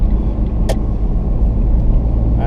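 A BMW 335i with turbos and an automatic gearbox idles steadily close by, a low continuous engine hum with one brief sharp click partway through.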